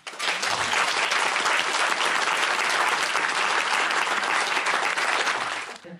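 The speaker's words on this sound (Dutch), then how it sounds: "En dan een heel groot applaus." A large indoor audience gives a big, sustained round of applause for an author at an interview event, dense steady clapping lasting about six seconds before stopping abruptly.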